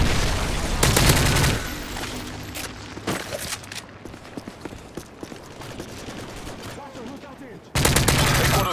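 Video game battle with a missile strike and bursts of gunfire: loud explosive blasts at the start and end, scattered sharp shots and rattling fire in between, with brief game voice callouts.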